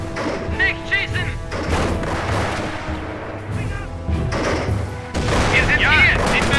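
Gunfire and explosions crackle and boom across a World War II battle in the strategy game Company of Heroes, with dense bursts of shots and thuds throughout and shouted German voice lines over the combat.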